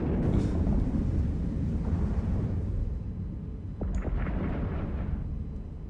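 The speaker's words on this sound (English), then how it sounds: "Someone started firing." Heavy weapons fire in a mass fleet battle in EVE Online, deep booming blasts and rumbling detonations that layer into a dense roar before dipping briefly and surging again, with no voices.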